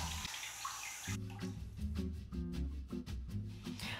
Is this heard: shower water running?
yes